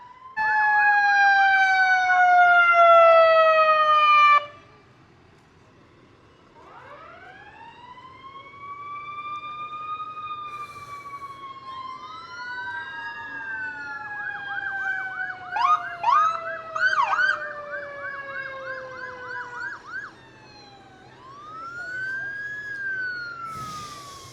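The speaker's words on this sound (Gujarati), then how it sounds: "એ સૌથી પહેલી ગઈ એ પોલીસની ગાડી હતી. હવે જો મે બી આ ફાયર ટ્રક છે." Police car and fire truck sirens pass during the Atwood parade in Canada: a loud rapid yelp gives way to rising and falling wails, then a burst of short horn blasts, with no talking.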